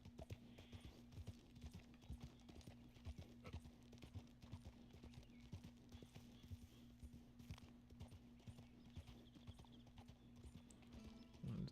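Horse hooves clip-clopping in the video game Hogwarts Legacy, a steady walking rhythm of close, even hoofbeats over a low constant hum, with faint talk beneath.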